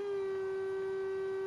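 A steady, high electronic engine drone from the Commodore 64 racing game Stunt Car Racer, holding one even pitch with no rise or fall, faint and alone.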